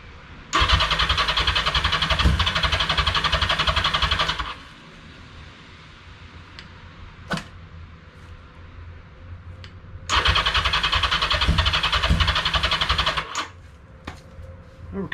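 A 1982 Yamaha XJ650 Maxim motorcycle that sat unused for five years is cranked twice by its starter in long, loud, rapid churning bursts without catching, with quieter rustling and clicks between them.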